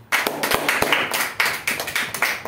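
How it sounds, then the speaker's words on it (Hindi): Scattered clapping for the winner of an online quiz, a handful of separate sharp claps in an uneven rhythm, close and fairly quiet, with no voices. "उनके लिए जोरदार तालियां"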